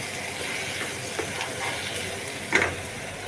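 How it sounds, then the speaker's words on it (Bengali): Peanut paste is stirred into a chingaari mixture cooking in a pan, giving a steady soft sizzle and hiss with a few faint stirring scrapes and one slightly louder clack near the end, with no speech. "দিয়ে ভালো করে নাড়িয়ে নেব"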